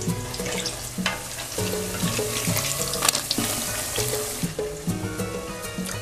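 Green plantain slices fry in hot oil in a pan, giving a loud, steady, crackling sizzle with scattered pops and some clinking from the pan.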